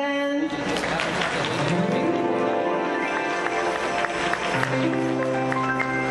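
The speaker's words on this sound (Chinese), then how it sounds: "来，再一次掌声。" An audience claps at a women's scarf performance show, with steady sustained applause blending with background music for several seconds.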